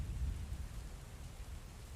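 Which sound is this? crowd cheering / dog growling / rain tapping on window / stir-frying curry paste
rain tapping on window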